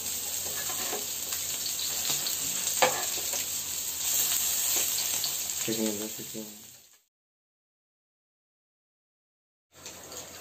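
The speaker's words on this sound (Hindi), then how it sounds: "दस मिनट बाद ये जब ठंडी हो जाएंगी तब मैं इनको डीप फ्राई करूँगी" Aloo tikki deep-frying in hot oil, a dense steady sizzle lasting about seven seconds, then a stretch of silence before the frying noise briefly returns.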